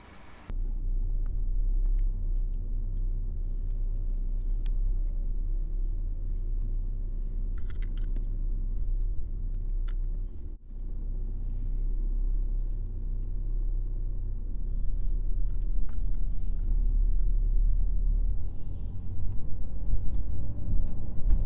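A BMW 318d's N47 diesel engine rumbles steadily in the low end while driving, with a brief dropout midway and some faint clicking noises on top.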